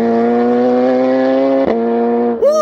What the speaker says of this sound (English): That Brock CT Megaphone full titanium exhaust sounds amazing on the upshifts.